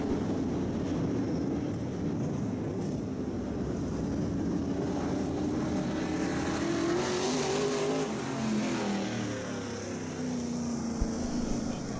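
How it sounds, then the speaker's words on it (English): Race cars on the Lavonia speedway track for a Fourth of July event run at full power, a loud, continuous engine roar with rising and falling pitch as the cars pass, paired up on the track, with no one talking. "you saw the cars go to power"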